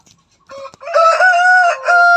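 A three-year-old fighting rooster from a breeding yard crows once, loud and close, after a few short clucks.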